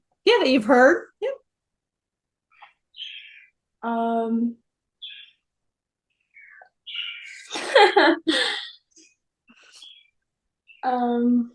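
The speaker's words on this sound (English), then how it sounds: "Since I hear a little bird in the background," A small bird chirps in short, bright bursts in the background while two people talk and laugh nearby.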